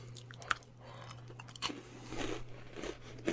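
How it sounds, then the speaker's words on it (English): Biting into and chewing a chocolate-coated crunchy nougat toffee candy bar with a spongy centre, a sharp close crunch at the start followed by steady wet mastication, with no talking. "Crunchy Bar is kind of a nougaty toffee."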